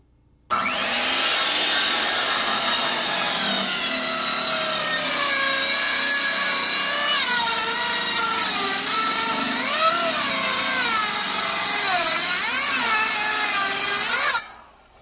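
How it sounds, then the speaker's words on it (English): A power saw makes one long, loud pass through a bundle of gable roof rafters, a continuous whining cut with a shifting, wavering pitch that starts abruptly and stops sharply. "we just make one pass with our saw this way"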